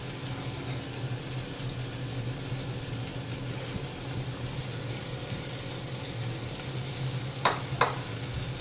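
Faint stirring and sizzling of chopped tomatoes frying with turmeric, salt and chili powder for a taro root and egg curry, a steady low simmering hiss with two brief scraping clinks near the end; no talking.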